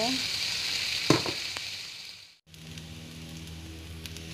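Rice frying in hot oil for nasi goreng budu, a steady close sizzle throughout with a brief stirring clatter partway through and a short dip before the frying resumes.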